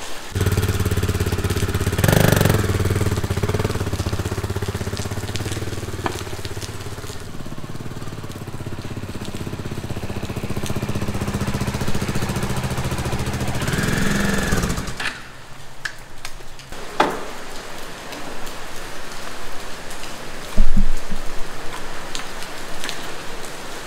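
A motorcycle rider heads out in heavy rain wearing a Rynox H2GO Pro rain jacket and rain pants, with steady rain hiss and a droning engine throughout, plus a few louder bumps and rustles near the end.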